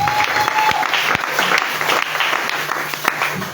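A church congregation applauds the Lord, a loud burst of rhythmic clapping from a crowd that continues throughout, with faint voices underneath.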